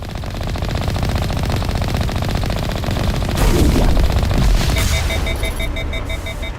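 Rapid automatic gunfire from the video game Mass Effect, a dense sustained rattle filling the scene with a heavier burst midway, loud and continuous throughout.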